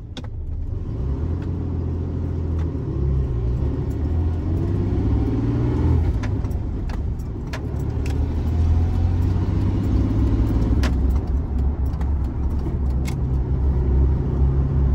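A worn pickup truck with nearly 300,000 miles cruises along, a steady low engine and road rumble heard from inside the cab, fairly quiet with small clicks and no talking.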